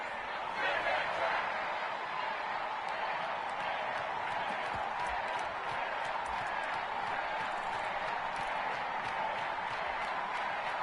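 A stadium crowd in the Madden football video game roars in a steady, continuous wash of cheering and applause, with voices talking over it.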